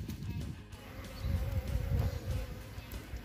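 Mandaçaia da catinga stingless bees buzz steadily around leftover hive resin after hot-water treatment against a parasite, a continuous close low hum with slight swells, no voices.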